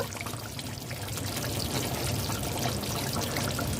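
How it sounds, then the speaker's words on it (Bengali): Fresh cream poured into simmering Afghani malai seekh kebab gravy in a pan, a steady close pouring and trickling sound that holds evenly for a few seconds with no talk. "ফ্রেশ ক্রিম দিয়ে দেব"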